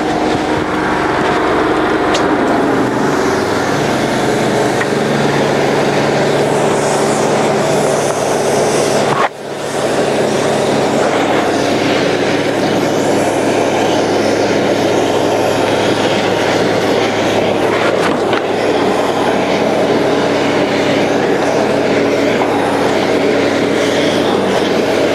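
A cold water sewer jetter at idle, not revved up, forces its hose through a 12-inch pipe, producing a loud, steady engine and pump roar that drops out briefly once before resuming unchanged.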